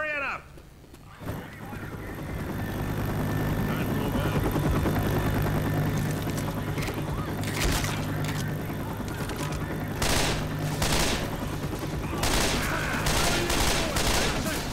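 Gunfire in the zombie shooter Left 4 Dead 2, dense continuous shooting and chaotic game noise filling the whole stretch, loud and sustained, with voices mixed in.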